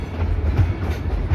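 The Dollywood Express steam train rolls along its rails with a low, steady rumble and faint rhythmic wheel clatter, close by and continuous.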